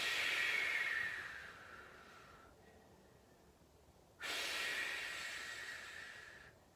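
A person breathing through an at-home floor exercise: two long, hissing breaths with a quiet pause between, close and fairly soft, with no talk over them.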